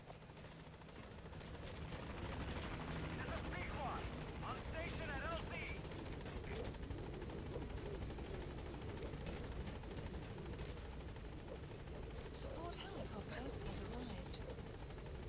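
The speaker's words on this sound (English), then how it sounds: "Support helicopter has arrived." A support helicopter arrives at a landing zone in Metal Gear Solid V: The Phantom Pain, its rotor thrumming steadily and loudly for many seconds, with a voice speaking over it at times.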